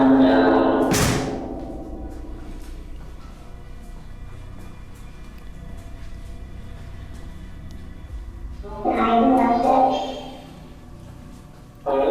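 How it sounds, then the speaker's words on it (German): An indoor door swings shut with a loud thud at the start, followed by a quiet stretch of room noise and a second burst of clattering movement near the end. "Achtung, Tür."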